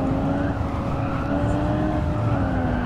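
A steady, loud engine drone with rising harmonics runs from the cockpit view of a Gran Turismo race car in an under-850-horsepower event, continuous throughout with no talk over it.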